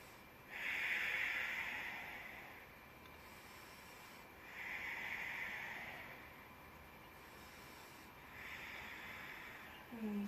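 Three slow, deep breaths drawn during a yoga pose, each a soft airy rush lasting a few seconds with quiet gaps between, close and gentle with no talking.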